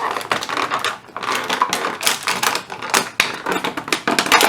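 Stiff plastic backing of toy figure packaging crackles and snaps as it is pried open, a string of sharp irregular crinkles and clicks up close, with no talking.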